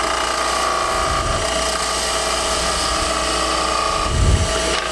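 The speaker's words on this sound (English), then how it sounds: "Then I use a spindle gouge." A spindle gouge cuts a bead into wood spinning on a lathe, a constant loud whirring and scraping hiss with a low rumble, plus brief heavier thumps near the start and end.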